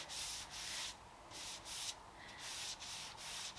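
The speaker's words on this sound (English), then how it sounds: "Also using a sponge. It's a damp sponge." A damp sponge rubs back and forth across the whitewashed top of a vintage Thomasville wooden dresser, making soft, close scrubbing strokes in a steady rhythm of bursts with short pauses between them.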